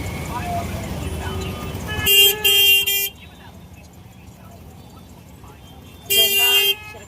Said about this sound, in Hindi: इतनी ज़्यादा ट्रैफिक थी